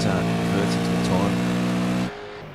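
A V8 Supercar engine in a racing simulator game screams at high revs, a loud sustained harmonic whine holding steady before dropping abruptly to a lower idle-like drone near the end, at Imola GP.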